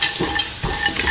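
A spoon stirs beans, green peas, green chili and other ingredients in a frying pan, giving a close scrape and shuffle over a hot sizzle, with a sharper stir partway through.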